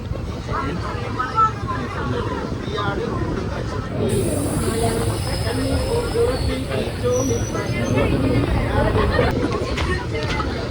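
Ernad Express train rolling along the Shoranur junction bypass, with steady wheel rumble and clatter, a long high wheel squeal partway through, and passenger chatter throughout the carriage.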